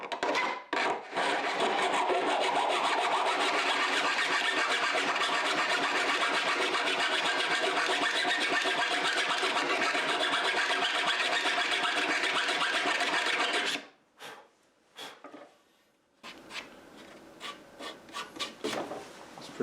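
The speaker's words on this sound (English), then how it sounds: "I could probably do it with a hand file" Hand file rasping down the tips of soft screws in a homemade wooden guinea pig hideout, long continuous close filing strokes that stop abruptly, followed by a few scattered knocks and scrapes.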